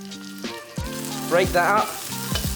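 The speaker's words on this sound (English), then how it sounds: "Oil based around that wok again, smoking hot heat before your first ingredient goes in, and that's my onions." Onions hit a smoking hot oiled wok and sizzle loudly, with bursts of stirring and tossing rising and falling over the frying hiss while someone speaks briefly.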